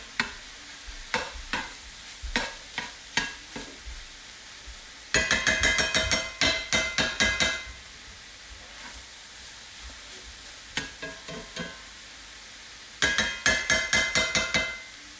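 Ground meat and garlic sizzle in a pan for lasagna while a utensil scrapes and stirs in quick rhythmic bursts, loud and close, with short pauses between rounds.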